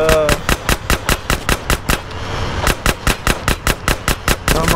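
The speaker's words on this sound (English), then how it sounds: "Come on, shoot him!" Rapid bursts of automatic gunfire from GTA San Andreas, loud and close, firing in a steady staccato rhythm with a short pause midway before the shooting resumes.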